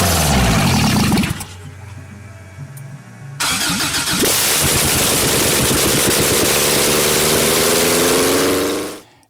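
A Subaru BRAT fitted with a 2.2 liter engine from a 1992 Subaru Legacy cranks over with a rapid starter whir, falls briefly quiet, then catches and settles into a loud, steady idle close by before cutting off.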